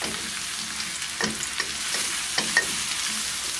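Garlic and about 400 grams of whole white mushrooms sizzle in a pan while being stirred and tossed: a steady close frying hiss broken by several soft scraping strokes, with no voices.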